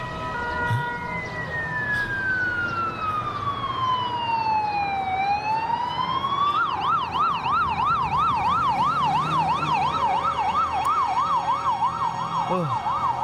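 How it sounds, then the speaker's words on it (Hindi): Ambulance siren wailing loud and close, a slow falling sweep giving way to a rapid rising-and-falling yelp over traffic noise, as the vehicle arrives at a street scene after a purse theft. "ओह, खुदा का शुक्र है कि एम्बुलेंस आ गई।"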